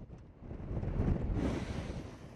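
Strong storm wind gusts at over 100 km per hour roar and buffet against the microphone in a steady, broadband rush that swells louder in the middle.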